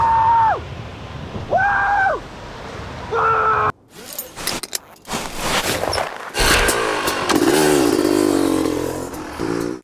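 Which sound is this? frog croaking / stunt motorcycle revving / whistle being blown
stunt motorcycle revving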